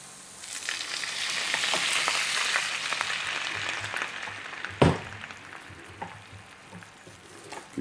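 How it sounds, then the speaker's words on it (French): White wine hits a hot pan of softened onion and garlic and bursts into a loud, close hiss of sizzling that gradually settles, with a few scraping clatters of a utensil stirring the pan. "Je mets le vin blanc."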